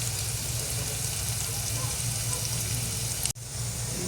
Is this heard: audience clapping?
no